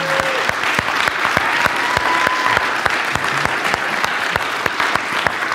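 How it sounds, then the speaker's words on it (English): Church congregation applause, a dense, steady round of clapping that continues strongly for several seconds, loud and close with a few sharp individual claps standing out. "So can I just have you all first just give a round of applause to those that helped?"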